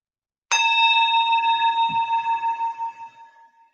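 A single meditation bell is struck once after a moment of silence, ringing out with a clear, bright tone whose shimmering overtones slowly wobble and fade over several seconds.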